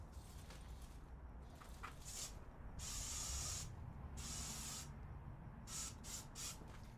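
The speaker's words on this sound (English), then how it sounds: "I'm gonna grab like some sort of spray and see if I can spray this." Several hissing bursts from an aerosol spray can aimed at a rat inside a tent, short and long sprays of varying length across the clip, close and fairly loud over low background rumble.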